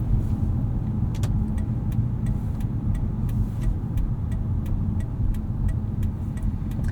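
A 2005 Lexus SC 430 is being driven, heard from inside as a steady, loud low engine and road rumble, with a regular series of light ticking clicks running throughout.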